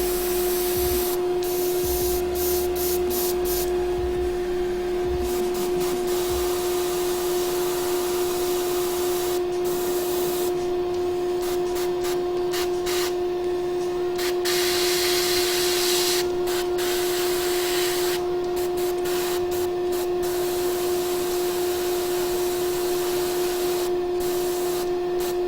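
An airbrush sprays a thinned Necrotite Green base coat onto a Bradigus miniature in a long, continuous hiss. Beneath it runs a steady compressor hum, and the hiss swells and eases slightly as the spraying goes on. Nobody speaks.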